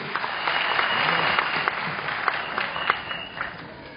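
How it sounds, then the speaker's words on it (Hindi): Audience applause at a testimonial event, steady clapping from a crowd filling the room throughout, with scattered louder claps standing out near the end. "मैं चाहूंगा जोरदार तालियां"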